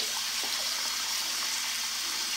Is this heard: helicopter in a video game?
no